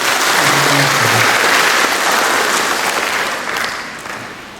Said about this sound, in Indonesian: Saya tepuk tangan buat kalian semua.